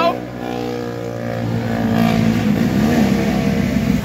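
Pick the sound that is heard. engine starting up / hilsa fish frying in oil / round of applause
engine starting up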